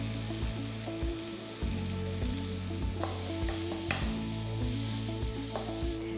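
A quarter of a medium capsicum fries in hot oil for egg lababdar, giving a continuous loud sizzle with crackles and stirring scrapes under a low steady kitchen hum, no speech.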